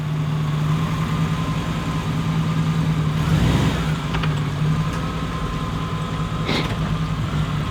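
A 1992 Chevy Camaro RS third-gen pulls away outdoors, its engine a steady mid-pitched drone with a brief swell of revving before fading under a constant background hum, a few faint clicks scattered through.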